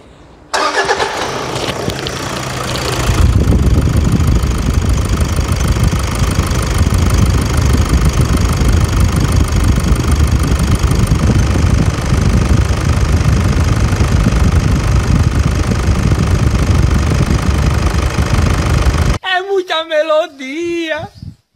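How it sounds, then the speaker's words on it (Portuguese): Toyota Hilux engine cranking and catching, then running with a steady loud mechanical roar close to the microphone for most of the clip before a voice speaks at the end. "Rapaz, vamos escutar a melodia desse motor. Tá a partida aqui, vamos escutar a melodia."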